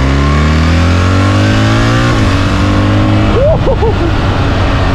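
A BMW R1300GS ASA motorcycle with an automatic transmission accelerates, its engine note climbing in steady rising sweeps, then dropping after a gear change partway through. It stays loud and close, with a brief whoop of a voice near the end.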